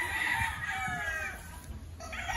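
Free-range chickens cluck steadily on a farm while a rooster crows prominently through the middle, the flock's chatter continuing close and fairly loud alongside.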